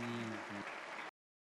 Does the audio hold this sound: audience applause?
yes